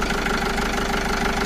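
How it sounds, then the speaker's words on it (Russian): A cold Hyundai HD78 refrigerated truck engine idles steadily, a loud close diesel chatter with an even, fast knocking rhythm and no other sounds. "Запустили мотор, вот мотор работает на холодную."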